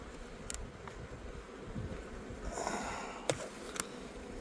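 Honey bees buzzing around a hive in the mountains, a faint, steady drone with a few brief clicks and knocks close by.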